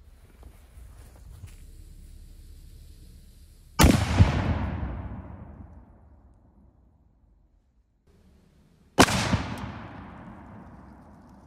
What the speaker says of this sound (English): we got a 3D printed tank round loaded up